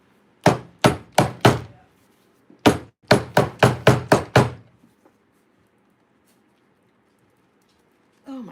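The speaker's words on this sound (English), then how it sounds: "I hate for you to have to watch me try to pry this open." A screwdriver striking a stuck jar lid while it is pried open, giving a run of sharp, loud, close knocks, first four then a quicker burst of six, followed by quiet and a brief voice.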